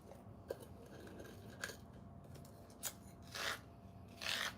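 Dried herb flower being ground in a small hand grinder, a few quiet scraping, rasping twists with short pauses between them, close and alone.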